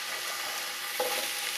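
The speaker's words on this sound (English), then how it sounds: "So what we're going to do is we're going to start sauteing." Potatoes sauteing on a hot grill give a steady, bright sizzle with a brief scrape of stirring near the end, close by and without talk.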